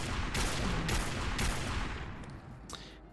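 Heavy sniper rifle shots fired at a Deathclaw in Fallout 4, several sharp gunfire bursts in quick succession over a dense rumbling game soundscape, fading toward the end.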